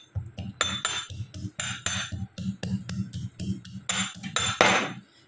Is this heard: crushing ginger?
yes